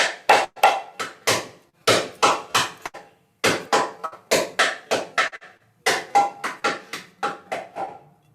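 Sharp, dry mridanga drum strokes (closed sound) struck in quick rhythmic groups with short pauses between, each hit damped and clipped short, played alone.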